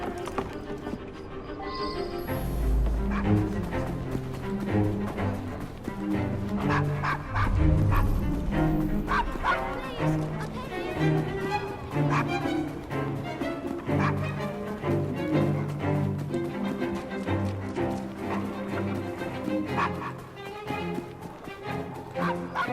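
Dog barking in the video game Assassin's Creed Syndicate, set near an old London pub, mixed with horse hooves clip-clopping and a busy, continuous game soundscape throughout.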